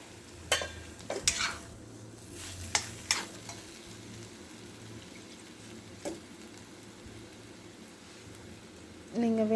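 Greens stems cook in a pan on a low flame with a quiet, steady sizzle, broken by several sharp clinks and scrapes of stirring, and a brief louder noise at the end.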